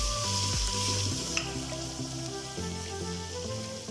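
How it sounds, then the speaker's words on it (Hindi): Steady sizzling of chicken frying with garlic in a hot pan, with occasional scraping stirs, close and continuous throughout. "लहसुन के साथ चिकन को भून लेना है।"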